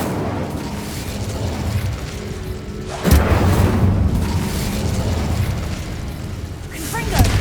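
Incendio fire spell blast in Hogwarts Legacy: a sharp fiery boom erupts partway through, then roars and crackles on loudly over a constant rumbling bed of game noise.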